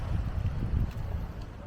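Wind buffets the microphone in a steady low rumble at Ala Moana Beach Park, Oahu, a fairly quiet, continuous gusty roar with no clear voices.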